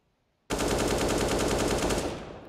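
Automatic gunfire in Counter-Strike on the Dust2 map during an IEM Rio Major 2022 match, a loud, sustained rapid burst of shots starting abruptly and running for about two seconds before tailing off.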